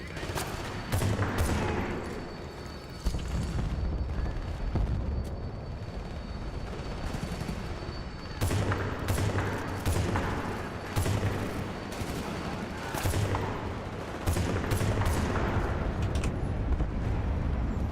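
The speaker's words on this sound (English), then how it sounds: "A 50 cal BMG feed gun, very nice" Heavy .50 cal BMG machine gun fire in the video game Battlefield Bad Company 2, with long loud rattling bursts broken by short pauses, thick with gunfire and rumbling blasts, a voice briefly speaking underneath.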